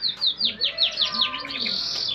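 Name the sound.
canary chirping in a cage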